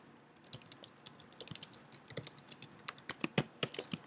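Rapid, uneven keystrokes on a computer keyboard as a prompt is typed, quiet close-up clicks running continuously with no talking.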